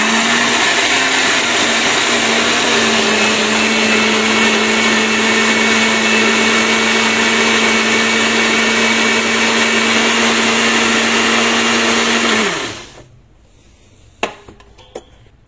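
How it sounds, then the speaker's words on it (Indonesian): A blender whirs steadily at high speed, grinding sugar for a caramel recipe, loud and continuous for about twelve seconds before winding down and stopping, followed by a couple of light clicks. "Oke, kita blender."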